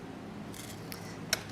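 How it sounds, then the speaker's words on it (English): Large scissors snip during a craft project, giving three short, crisp cuts spread over a second and a half, with the last one sharpest, against a quiet room. "Using the biggest scissors I've got here, Joe"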